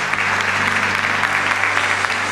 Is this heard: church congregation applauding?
yes